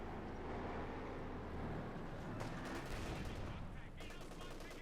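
Gunfire fills a Company of Heroes 2 battle between Wehrmacht and Soviet forces, with an MG42 machine gun crew firing at penal troops, dense loud bursts layered over ongoing combat noise and explosions throughout.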